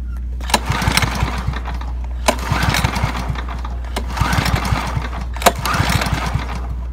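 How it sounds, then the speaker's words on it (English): A lawn mower engine being winterized, its starter rope pulled four times in a steady rhythm, each pull a loud close rasping whir as the engine turns over without starting. "we want to just pull the engine rope, starter rope several times, or engage a starter if you've got electric start"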